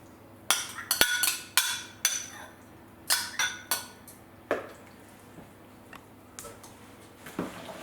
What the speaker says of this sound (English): So you mix it up all together, give it a good stir